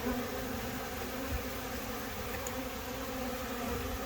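Yellow jackets and bees buzz around apiary hives during a summer dearth, a steady faint drone of many insects nearby with no talk.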